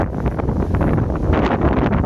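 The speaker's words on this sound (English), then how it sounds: "Oh, that breeze was a bit much. Listen to that." Outdoors, a strong breeze gusts straight onto the microphone, producing a loud, continuous rumbling buffet with no speech over it.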